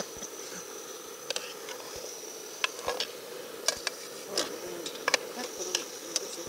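Mosquitoes whine around a seaside camp at night. A thin, steady high buzz carries on throughout, broken by scattered sharp clicks and light rustles.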